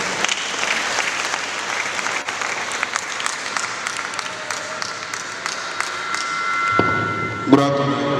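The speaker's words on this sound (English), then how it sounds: "Clap for him." An orientation audience applauds steadily for several seconds, dense clapping filling the room before it fades as a tone and a few thumps sound near the end.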